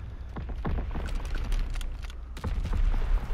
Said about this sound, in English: what kind of fucking explosions over here?